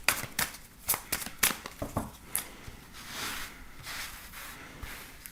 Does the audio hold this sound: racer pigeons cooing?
no